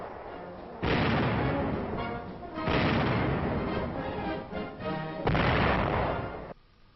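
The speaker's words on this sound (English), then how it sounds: "An aircraft machine gun. Other guns are demonstrated in separate and comparison firing." A .50 caliber aircraft machine gun and other US Army guns fire in demonstration and comparison, heard as three long, loud sustained bursts of rapid fire with brief gaps between them and no talking.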